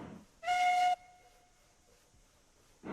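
In the video game Railroads Online, a steam locomotive whistle gives one short, bright, tonal blast that cuts off abruptly and rings briefly, set against a quiet background.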